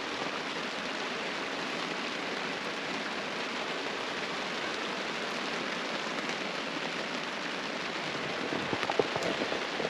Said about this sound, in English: It's fun camping in the rain in here.